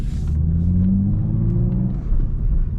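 BMW E46 ZHP being driven, heard from inside the cabin as a steady low engine and road rumble with a faint rising engine tone, continuous and fairly loud, no talking.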